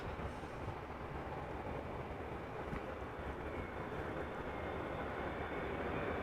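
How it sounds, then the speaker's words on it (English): A KLM Boeing 777-300 arriving from Johannesburg at Amsterdam Schiphol gives a constant low roar of jet engines, broad and steady at moderate loudness, with no speech. "KLM flight 592 arriving from Johannesburg, 777-300."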